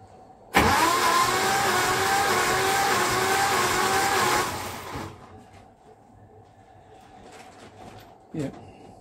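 A Humber Super Snipe Mk IV engine, suspected of a valve or head gasket fault, runs loudly with the throttle held open for about four seconds during a wet compression test, then cuts off, leaving a quiet background and one brief knock.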